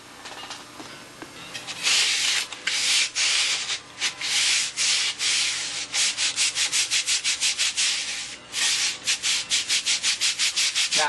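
A sanding bar is rubbed along a wooden boat-building workpiece in repeated back-and-forth strokes, close and raspy, speeding into a quick regular rhythm toward the end.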